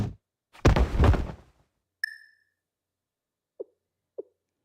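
In the Blue Archive video game, a flashbang grenade lands as a dud: a rushing burst, then a bright metallic ping, followed by two small, soft thunks as it settles, with silence between.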